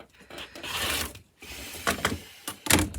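Quilt fabric blocks being cut on the diagonal for a log cabin quilt, a long rasping slide of a cutter through cloth followed by a few shorter scraping strokes and soft taps, close and fairly quiet.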